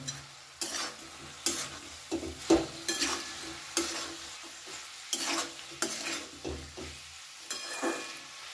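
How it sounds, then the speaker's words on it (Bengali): Fried paneer pieces are gently stirred into a sizzling chilli paneer mixture in a pan, with a soft, steady sizzle broken by repeated scraping strokes of a spoon at an even rhythm. "খুব হালকা হাতে মিশিয়ে নেব।"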